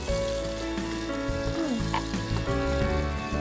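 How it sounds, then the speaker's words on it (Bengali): Mushrooms fry in butter with chopped garlic, giving a steady, close sizzle that runs the whole time, with a few soft scrapes and stirring clinks along the way. "মাশরুম দিয়ে দিলাম। মাশরুমটা দিব একটু ফ্রাই হতে।"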